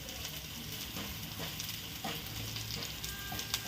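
Garlic-ginger paste sautéing in a pan pushed beside onions, a faint crackling sizzle with small clicks and scrapes of stirring scattered throughout, quiet and close, no voices.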